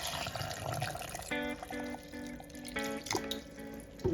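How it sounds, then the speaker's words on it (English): Water pours and splashes into a blender jar while making a mango and avocado smoothie, a steady close trickle with brief gurgling bursts and no talk. "I'm going to add some water to blend."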